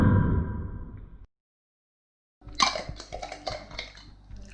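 An olive jar lid being handled in a kitchen: a low rumble, then a short silence, then a cluster of close clinks and taps as metal and glass knock together.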